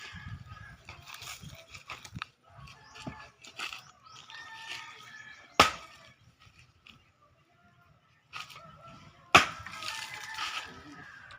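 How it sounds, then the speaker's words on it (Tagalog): Two sharp, loud cracks of firewood being split by an axe stand out amid quieter rural outdoor rustling and scattered knocks. "yung anak ko nagsisibak ng panggatong"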